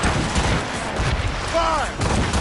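Ship cannons firing a volley in Assassin's Creed Rogue, a dense, continuous rumble of booms layered under loud game effects and a shouting voice, with no clear separate shots.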